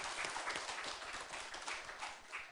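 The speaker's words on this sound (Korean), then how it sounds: "하나님께 감사드리는 영광의 박수를 올려드리겠습니다" A church congregation claps in thanks during a Sunday service, a faint, dense patter of many hands sustained for a couple of seconds without voices.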